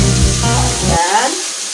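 Mustard green stems hit a hot wok while stir-frying Singapore-style bihun goreng, giving a loud, close, crackling sizzle that drops sharply after a second to a softer hiss.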